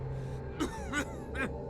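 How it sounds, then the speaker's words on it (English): A character in the video game Pillars of Eternity coughs violently, three harsh bursts spaced about a third of a second apart over a low ambient hum. "all that emerges is a series of violent coughs"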